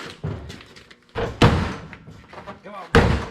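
A car door on a gutted bump-and-run race car is slammed shut several times, giving heavy, close metallic thuds, with voices talking between the hits.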